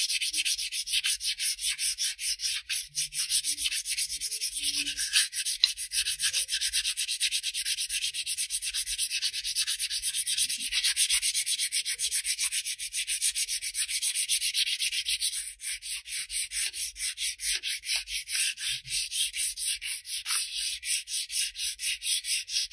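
Water transfer coasters being hand sanded with steady, continuous back-and-forth strokes, a close, even abrasive rasp that runs unbroken throughout with no talking.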